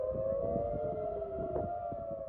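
Civil defense air raid sirens wail across central Tel Aviv during a rocket attack, a steady, loud rising-and-falling tone that continues without a break, with no voices.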